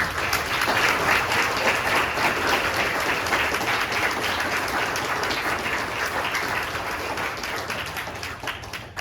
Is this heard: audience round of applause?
yes